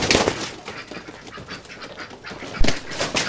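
Ducks bought from a local seller quack close by in loud, irregular bursts, several calls overlapping with a sharp squawk near the end.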